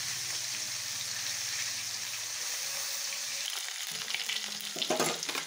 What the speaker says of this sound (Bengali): এখন মাছটাকে আমি সুন্দর করে লাল লাল করে ভেজে নেব।